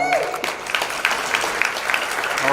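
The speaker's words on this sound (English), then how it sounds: "please give them a big round of applause" An audience at a community awards event in Houston bursts into steady applause, a dense patter of many hands clapping at fairly close range.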